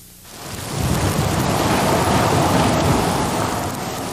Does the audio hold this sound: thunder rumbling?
yes